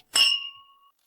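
Glasses clink together once in a toast, a single bright ring that fades quickly into silence.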